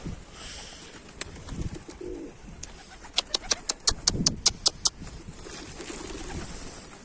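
A pigeon takes off with a rapid burst of wing claps, then soft cooing and rustling nearby.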